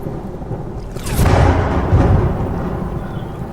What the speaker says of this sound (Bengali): ঘন ঘন বাজ পড়ার শব্দে বুকের ভেতরটা পর্যন্ত কেঁপে উঠল আমার